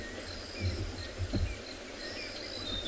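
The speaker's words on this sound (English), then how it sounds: "The birds are doing their last chorus before roosting for the night." An evening safari soundscape at sunset, with birds chirping in their last chorus and frogs and insects trilling steadily in the distance.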